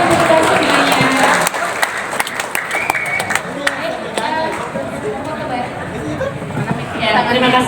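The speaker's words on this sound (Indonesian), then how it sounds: "Tepuk tangan untuk kita semuanya." Audience at a regional school technical training session applauding, a dense burst of clapping at the start that thins to scattered claps and murmuring chatter, with voices talking over it.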